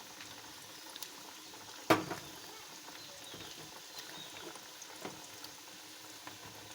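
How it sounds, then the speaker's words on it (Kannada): Onion, cumin and mustard seeds fry in oil in a pan for a North Karnataka style bitter gourd stir-fry, giving a faint, steady sizzling patter with one sharp pop near the start and scattered small crackles throughout. "ಎಣ್ಣೆಗೆ ಈರುಳ್ಳಿ, ಜೀರಿಗೆ, ಸಾಸಿವೆ ಹಾಕಿ ಚೆನ್ನಾಗಿ ಬೇಯಿಸ್ಕೋಬೇಕು"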